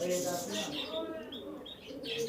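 Aliwala group pigeons at a Bangladeshi pigeon farm coo softly and repeatedly amid scattered chirps, with a voice talking faintly nearby.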